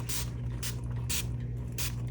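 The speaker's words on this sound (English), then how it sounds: "I'm just gonna spray them with some alcohol, pop these surface bubbles" Short hissing bursts of an alcohol spray bottle misted over freshly poured topography resin pendants, four evenly spaced puffs over a steady low hum, close and fairly quiet.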